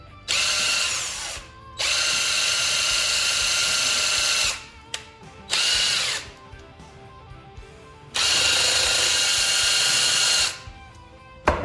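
A power tool fitted with an abrasive pad scrubs an old bolt in several whirring bursts of two to three seconds each, separated by short pauses, close and loud with no talking.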